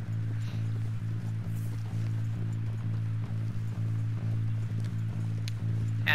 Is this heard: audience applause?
no